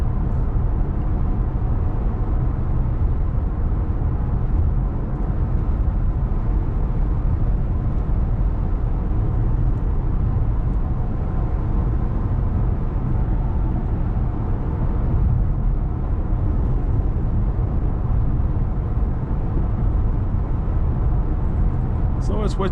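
Steady, even road noise inside a 2010 Acura TL at speed, a low broadband hum of tires and faint wind rush, constant and unbroken throughout with no distinct events.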